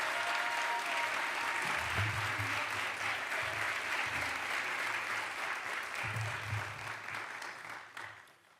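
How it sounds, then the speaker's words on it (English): Sustained applause from a crowd at a New York City mayoral education announcement, a dense continuous wash of clapping that fades out near the end. "Let's give Alana and her son Anthony another round of applause"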